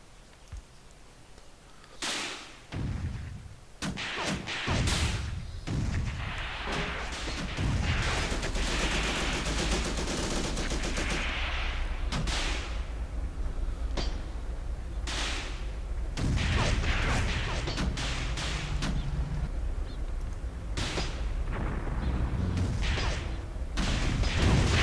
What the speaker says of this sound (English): Heavy fire getting laid down.